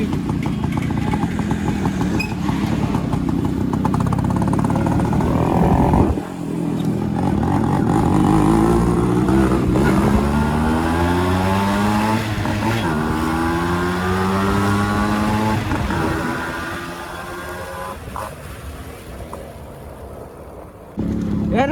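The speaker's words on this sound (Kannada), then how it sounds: "ಹಿಂಗೈತಿ ಇಂಜಿನು" A Yamaha RX motorcycle engine revs up and down repeatedly at close range, loud and continuous, its pitch climbing and falling in waves before dropping to a rougher idle near the end.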